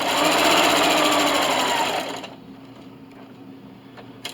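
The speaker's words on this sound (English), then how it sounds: "And just keep sewing." A sewing machine stitches recycled denim for a draft stopper with a loud, steady, close whir that stops about halfway through, leaving quiet room tone and a faint click.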